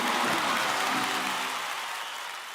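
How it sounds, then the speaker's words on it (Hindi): Audience applause on a comedy talk show stage, a dense steady patter of clapping that fills the whole moment and slowly fades a little toward the end, with no voices over it. "इन सबके लिए जोरदार तालियां हो जाएं।"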